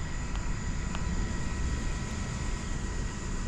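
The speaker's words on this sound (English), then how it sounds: "There you go, that's the news chopper." News helicopter flying overhead during a manhunt search near Longwood and Conservatory Road, heard as a steady, fairly distant broadband rotor and engine drone that holds constant throughout, with no talking.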